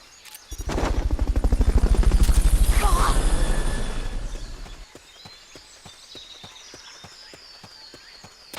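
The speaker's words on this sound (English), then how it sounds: "Fulton recovery subject confirmed onboard helicopter." A helicopter in the video game Metal Gear Solid Peace Walker swells up loud with a steady rotor chop for about four seconds, then fades away, leaving quieter clicking and clopping sounds.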